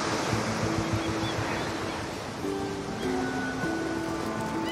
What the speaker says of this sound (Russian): Море.